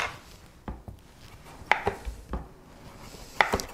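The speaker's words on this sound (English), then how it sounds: "And then I'm going to cut them in crescent moons." A knife cuts delicata squash into crescent slices on a board, giving a handful of sharp, separate chopping knocks at an uneven pace, close and fairly quiet, with no talk.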